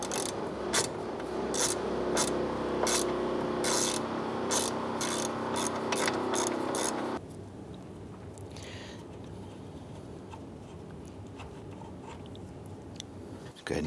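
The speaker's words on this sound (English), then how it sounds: "Use your 13 millimeter socket. Let's go ahead and loosen and remove this." A 13 mm socket ratchet loosens an AC condenser line bolt on a 2002-2008 Dodge RAM, with steady rapid clicking and rasping for about seven seconds, then quieter, sparse mechanical sounds.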